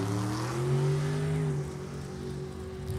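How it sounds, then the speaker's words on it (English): A dragster engine roars at a drag strip race, a moderately distant rising then settling engine tone that fades slightly after the launch, with no speech. "Heard a puh out of the dragster."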